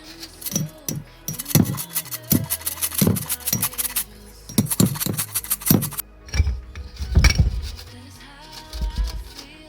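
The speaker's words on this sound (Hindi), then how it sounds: "अब आप एक ग्रेटर लेकर प्याज को इसमें कद्दूकस कर लें।" Onion being grated by hand on a kitchen grater, a series of uneven scraping and rubbing strokes with light clinks of metal, close and fairly loud with no talking.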